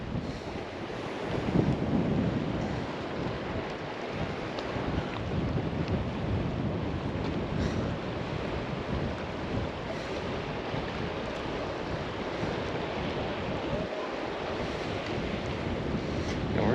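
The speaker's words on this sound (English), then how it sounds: "And it got windy down here. We got a storm coming in," Strong wind buffeting an outdoor microphone beside water while waves wash steadily in the background before an incoming storm, a constant loud roar with occasional gusts and no talking.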